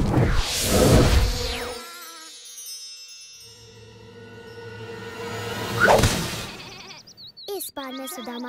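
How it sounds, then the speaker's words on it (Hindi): Animated cartoon scene with whooshing swishes at the start, then sheep bleating in a sustained wavering call partway through, followed by quick chirpy sound effects at the end. "इस बार मैं सुदामा की नाक के नीचे से ये सारी भेड़ें चुरा ले जाऊंगा।"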